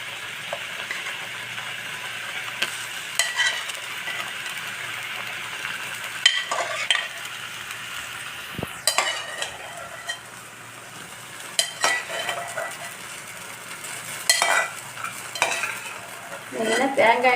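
Vegetables stirred into a simmering coconut mixture for aviyal, a steady bubbling hiss with repeated scraping and clinking spoon strokes close by, louder near the end, no talk.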